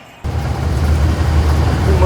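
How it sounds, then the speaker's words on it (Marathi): Mangaon bus stand in the late afternoon, crowded, with a continuous loud rumble of bus engines and road traffic close by. "मानगाव बस स्टँडचं हे 5 वाजता परिसर बघा, बरीच अशी बस स्टँडला गर्दी आहे बऱ्यापैकी."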